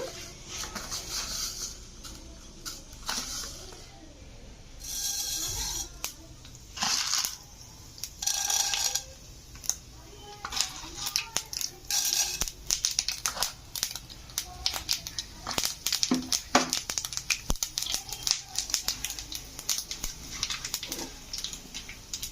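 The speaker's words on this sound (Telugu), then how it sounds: "ఇవో పోపు గింజలన్నీ యాడ్ చేస్తున్నాను" Small tempering seeds crackle and pop sharply in hot oil, a dense, irregular sizzle of quick snaps that continues throughout, close by.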